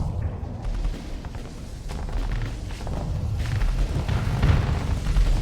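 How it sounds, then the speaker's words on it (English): Missiles and explosions rumble through a space battle in the video game Starsector, with a dense, continuous stream of low booms and crackling bursts that swells louder toward the end. "That's a lot of missiles."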